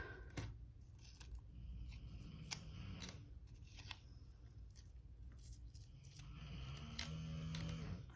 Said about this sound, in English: I'm gonna take the dies off the sticky tape.